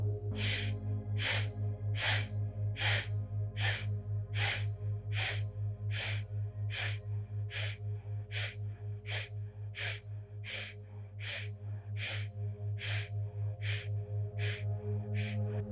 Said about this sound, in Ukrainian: Видих через праву.